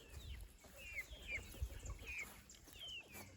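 Chickens cluck and chirp in short, repeated calls at a moderate distance over a steady low outdoor rumble.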